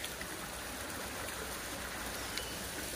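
A river flowing steadily in a remote forest creek, its continuous broadband rush of water moving evenly and fairly loud throughout, with no voices present.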